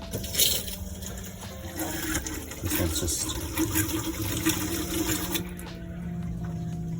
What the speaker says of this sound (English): That's your water pump.